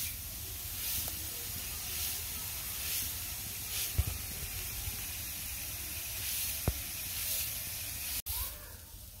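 Potato fry (aloo bhaji) sizzles in a pan as a soft, steady hiss that continues throughout, broken by a couple of sharp clicks.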